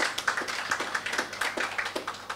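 Scattered applause for Mrs. Ricketts at the launch of the 'Blooming Inside' art exhibition, with sparse, uneven claps repeating steadily at moderate distance and no talking.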